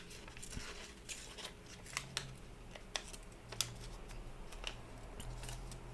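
Origami paper folded into a penguin ornament, heard as soft crinkles, creases and light taps in a rapid, irregular pattern close by, with no talking.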